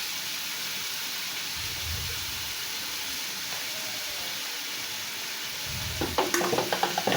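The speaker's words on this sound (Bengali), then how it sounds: "এভাবে আমি কিছুক্ষণ সবজিগুলোকে সিদ্ধ করে নিব।" Vegetables sizzling in a pan with salt for a Chinese-style vegetable dish, a steady hiss throughout, with a burst of stirring and utensil scrapes near the end.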